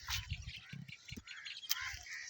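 Birds call and chirp in a village in the early morning, with short, fairly faint bursts of calls over low background rumble. No voices are heard.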